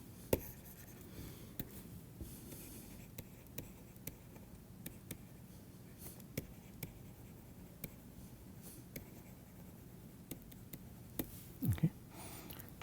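Pen or chalk writing out equations by hand during a lecture on mass transfer to suspended particles, with faint scratchy strokes and sharp taps scattered steadily over a quiet, low room hum, no talking.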